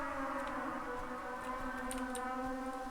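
A siren wails in the horror game Trumpets, a steady, layered tonal drone sounding from a distance with faint clicks and thumps underneath.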